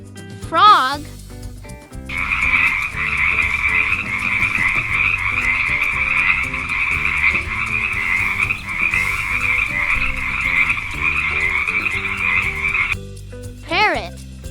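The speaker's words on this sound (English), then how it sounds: "Frog." A frog croaks in a long, steady, loud rasping chorus that runs for about ten seconds, bracketed by short bright chirping calls at the start and end.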